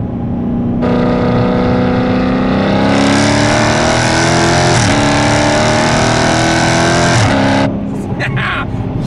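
A 2016 Dodge Challenger ScatPack engine revs hard and steadily for several seconds, with a sharp, loud roar and brief dips where gears shift, ending abruptly.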